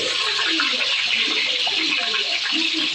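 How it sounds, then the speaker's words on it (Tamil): Garlic cloves sautéing in about 100 ml of sesame oil for a garlic thokku, a steady, close hissing sizzle heard on its own for a few seconds. "இப்போ இந்த நல்லெண்ணெயில் வந்து நம்ம இந்த பூண்டை வந்து போட்டு நல்லா வதக்கி"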